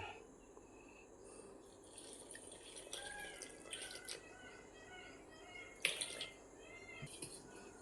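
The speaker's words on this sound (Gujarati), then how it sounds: "હવે પાણી નાખીશું" A faint trickle and drip of water being poured close by into bhajiya batter, soft and uneven, with small clinks and a quiet background.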